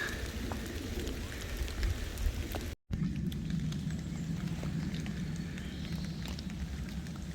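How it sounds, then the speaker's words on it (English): Rain patters steadily during a winter wild camp, a soft, continuous dense pattering with scattered louder drops close by, briefly cut off for a moment before resuming. "It's nice to hear the pitter patter of the rain."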